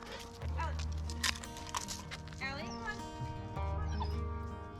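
An excited dog whimpers and yips repeatedly in high, wavering whines with a few sharp barks, close by, while a person talks over much of it.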